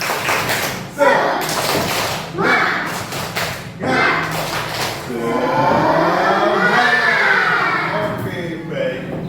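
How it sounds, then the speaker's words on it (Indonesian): A school class doing a rhythmic 'tepuk semangat' spirit clap, several bursts of group clapping and thumps in patterned beats, followed by children chanting together in unison. "kita tepuk-tepuk dulu. Baik, tepuk semangat."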